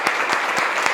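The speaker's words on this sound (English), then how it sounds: "Can we please give another round of applause?" Steady audience applause fills the room after a child's song at a school music event, dense even clapping with a few sharper claps standing out, no voices.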